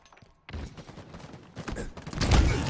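Frag grenade blast in Halo Infinite, a sharp burst after a brief quiet followed by rattling gunfire and a heavier booming explosion swelling near the end, loud and close.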